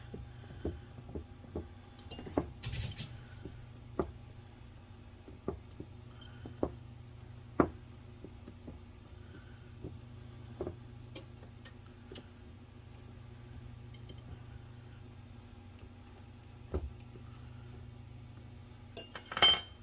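A fork pressed around the edge of an apple pie crust, giving faint, irregular clinks and taps over a low steady hum, spread sparsely across the stretch.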